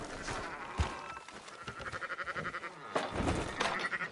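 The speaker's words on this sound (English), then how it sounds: "Fine sheep." Sheep bleat in Red Dead Redemption 2, several wavering calls at moderate distance over a soft ambient bed, with no speech.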